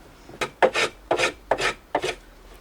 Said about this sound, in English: I'm just planing up these sides so they're nice and smooth.